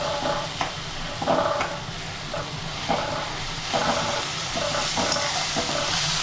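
Onions, potatoes and spices for kande pohe are stirred in a pan of hot oil, a soft sizzle running underneath while a spoon scrapes and clinks against the metal in irregular strokes.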